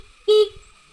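A weak motorcycle horn, on a bike being checked for battery, stator and regulator faults, gives one short, thin toot, close and alone in a quiet setting.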